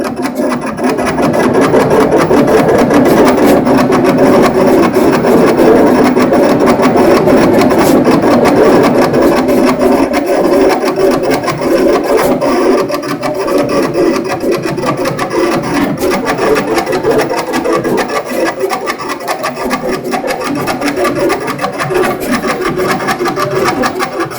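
A cutting plotter slices text and letters into an inkjet-printed sponsor decal sheet, giving a steady, continuous mechanical whir and rasping drone that runs loud and unbroken throughout, with no voices.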